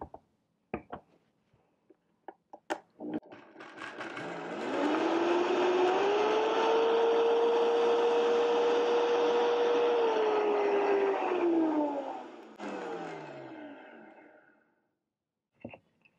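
An electric grinder whirs loudly and steadily for several seconds as it grinds fresh herbs with oil into a fine paste, spinning up and winding down, with a few clicks and knocks around it and no talk.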